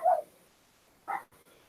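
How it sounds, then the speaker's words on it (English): Two short barks from dogs, heard alone against near silence, fairly close, spaced about a second apart with a faint trailing yip. "Listen to the dogs."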